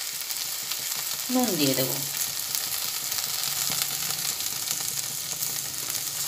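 Okra frying in a pan gives a steady, close sizzle throughout, while a person speaks briefly near the start.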